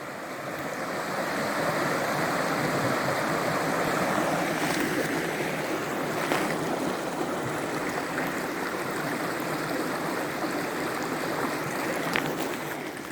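Steady water flowing over stones where a stream meets a lake, a continuous broad rushing and babbling close by with light wind noise and no talking.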